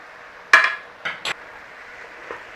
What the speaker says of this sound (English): Nice little stir through.